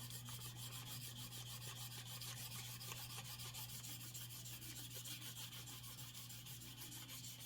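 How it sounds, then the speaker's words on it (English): Steady back-and-forth rubbing of sandpaper over the raised edges of a metal tire changer cylinder, a fine continuous rasp heard close and alone. "All I'm sanding off here is the raised edges."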